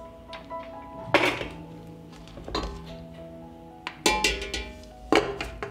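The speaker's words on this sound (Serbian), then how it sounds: "Tegle stavljam u ekspres lonac." Glass jars clink and knock against the metal of a pressure cooker several times at irregular intervals as they are placed inside, close by, with a faint ringing between the bumps.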